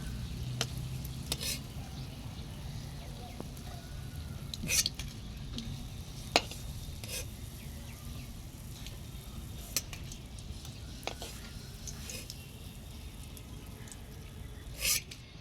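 Fritters fry in oil, giving a low, steady sizzle that runs throughout, with a few sharp clicks of a utensil stirring or lifting them out.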